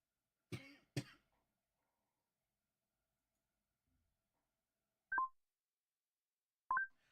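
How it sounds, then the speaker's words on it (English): Two quick coughs close to the mic during a Pokémon shiny-hunting stream, then silence, followed by two short electronic beeps a couple of seconds apart. "Sorry you had to hear my coughing."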